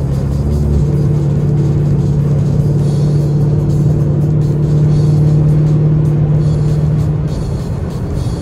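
A car engine hums steadily while driving, a loud, close, constant low drone with a slight rise in the middle and no voices.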